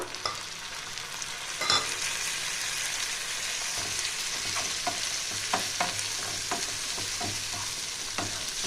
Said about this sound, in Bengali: এটা একটু ভাজবো। এবার দিয়ে দেবো টমেটো একটা